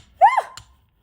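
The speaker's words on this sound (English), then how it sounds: "I sneezed away from the gel print" A single sharp human sneeze, one close burst with a rising voiced onset and a quick falling release, followed by a faint thump and quiet.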